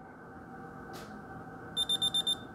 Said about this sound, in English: It tells you with the magic beep.